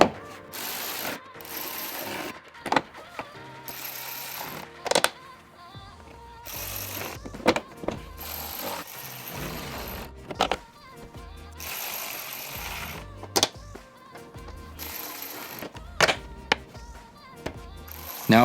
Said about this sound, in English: let's secure the wheel well liner with the 8mm screws and push rivets